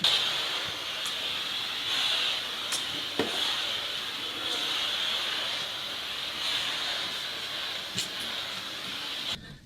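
A Karcher SC5 steam cleaner runs continuously over tiles, giving a steady, near hiss with a few faint scrapes and taps along the way.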